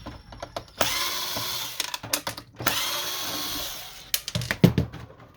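A power screwdriver whirs in bursts while taking screws out of the bottom of an HP Officejet 3830 printer, with several short whines of about a second, clicks and plastic handling noises in between, close up, and no talk.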